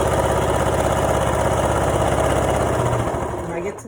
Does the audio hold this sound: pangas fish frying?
no